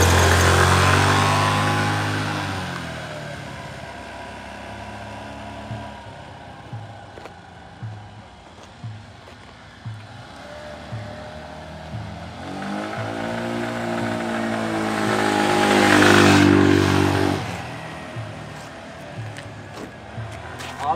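Motorcycle engine revving and idling close by, rough pulsing throb that swells and fades as it pulls away, with louder throttle bursts near the end.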